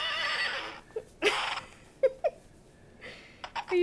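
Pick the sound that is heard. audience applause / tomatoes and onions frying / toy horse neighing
toy horse neighing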